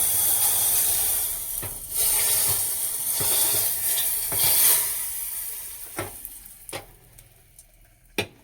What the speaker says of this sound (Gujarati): કમ્પ્લીટ દાળ આપણે વઘાર નાખવાની છે